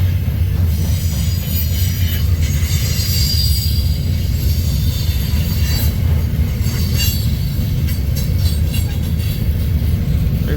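Freight train rolling past on the northbound Council Bluffs to Sioux City line at Missouri Valley, Iowa, including a Southern Pacific gondola car; a loud, steady rumble of rail cars with high wheel squeals throughout, no talk.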